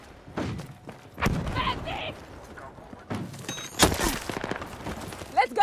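Heavy booms and thuds of mortar fire in a video game, several loud impacts spread unevenly across the moment, with excited talk over the explosions.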